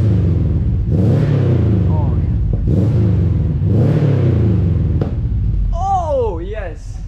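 A Subaru car engine revving in repeated loud surges, rumbling rises and falls close by, with a voice speaking over the end.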